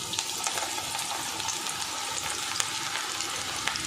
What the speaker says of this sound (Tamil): இப்போ பக்கோடாவை எடுத்து நல்லா கரெக்டாக இந்த மாதிரி புழிஞ்சு விடுங்க.